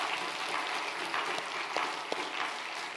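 A church congregation applauds during a Sunday service, a faint, steady wash of clapping heard from a distance, with no speech over it.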